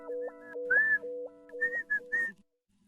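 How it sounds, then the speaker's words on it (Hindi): A person whistles a short, wavering tune of sustained notes and quick rising slides, close and clear, then stops, leaving near silence, with no speech. "सीटी बजाना बंद करोगे?"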